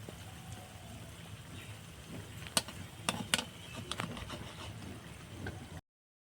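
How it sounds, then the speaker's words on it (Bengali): Muri and milk sweets frying in hot oil give a steady soft sizzle, with a few sharp clicks and pops near the middle. There is no talk. "এইভাবে ভাজতে হবে তো দেখুন মিষ্টিগুলো কত সুন্দর ফুলছে একদম"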